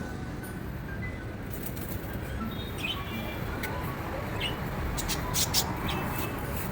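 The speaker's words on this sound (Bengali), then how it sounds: "এই সাউন্ডটা, কিচিরমিচির সাউন্ডটা এত ভালো লাগে, তো তোমাদের একটু শোনাচ্ছি।" Many birds chirp in short, scattered calls from trees around a restaurant in Contai, over a low background rumble.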